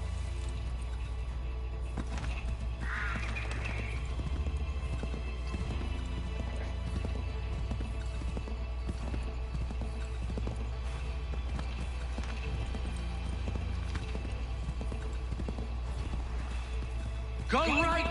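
Steady clip-clop of horse hooves at a run in a PS4 video game, with game background rumble and occasional voices talking over it.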